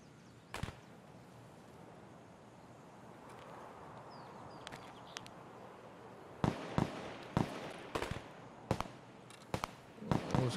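Gunshots in the video game Escape from Tarkov: sharp isolated cracks, one early, then a quicker run of loud shots near the end over a quiet background hiss.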